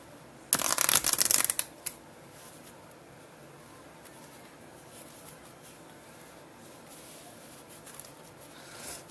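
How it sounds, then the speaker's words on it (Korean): Playing cards riffled together on a tabletop during a card magic lesson, a quick close burst of crisp flutter lasting about a second, followed by a faint tap and then quiet room tone. "그리고 테이블 셔플"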